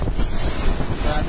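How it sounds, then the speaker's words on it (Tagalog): Typhoon Odette (Rai) wind roars and buffets the microphone continuously, a loud, rough rushing noise with no pauses. "Narinig niyo ba yung mga agibis na hangin?"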